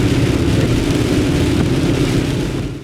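Steady rain pours onto a car windshield during a fall trip in Kentucky's Red River Gorge, a dense, continuous, close hiss with no talking.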